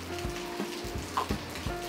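Rain falling at a villa, heard as a steady patter with scattered drops and soft splashes hitting a surface, no talking.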